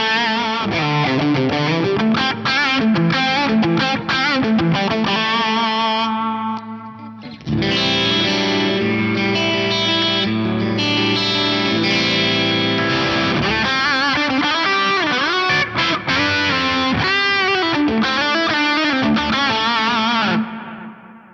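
An electric guitar on the bridge pickup plays through an Axe-Fx III with heavy distortion and echoing delay, notes ringing and overlapping with a short pause before the playing resumes.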